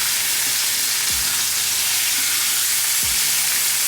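Honey glazed salmon sizzles skin side down in a pan, a loud, constant close-up frying hiss with a couple of faint low knocks, no voices.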